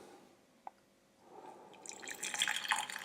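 Freshly brewed coffee is poured into a cup, a single click followed by a rising, trickling liquid stream that grows louder and fills the last part, close and without talk.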